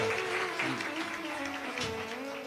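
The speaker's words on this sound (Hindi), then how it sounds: "एक बार जोरदार ताली बजाकर साधु" Applause from an audience at a Shiv Mahapuran religious discourse in Korba, Chhattisgarh: a steady wash of clapping throughout, mixed with sustained voice or music tones.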